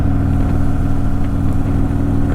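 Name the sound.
Harley-Davidson Softail Sport Glide Stage II motorcycle engine revving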